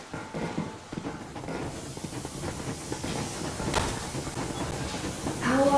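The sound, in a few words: steam train moving off in video game Metro Exodus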